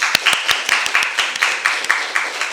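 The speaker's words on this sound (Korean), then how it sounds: "그러니 하나님께 영광의 박수." A church congregation claps during a Sunday service, with rapid, dense applause and sharp individual claps standing out close by. Short voiced sounds come through under the clapping.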